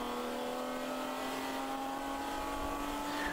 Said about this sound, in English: Rockingham just sounds like this big, nasty beast of a race car